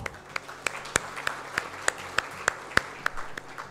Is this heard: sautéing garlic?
no